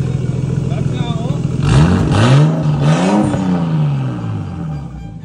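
A Nissan Skyline R32 engine revving through a newly fitted muffler, loud and close, with a few rising and falling revs climbing over a steady idle.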